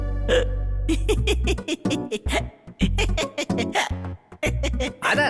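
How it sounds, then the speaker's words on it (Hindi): Repeated sharp hiccups from a man in a Hindi-dubbed action film scene, short abrupt vocal bursts scattered among close talk from other people. "आपको हिचकी आ गई क्या?"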